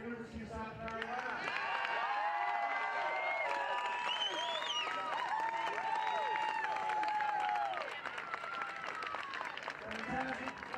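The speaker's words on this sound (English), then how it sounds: "let's hear a round of applause for University of South Carolina." A crowd applauds and cheers University of South Carolina at a 2015 SCRC championship event. Steady, distant clapping and cheering fills the whole stretch, with whistle-like tones and crowd noise over it.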